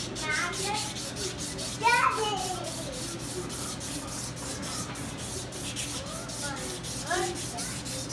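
Metal crankshaft journals being rubbed free of rust during polishing, a steady scraping, sanding-like friction close by that runs continuously with a few sharper strokes, and a faint background hum.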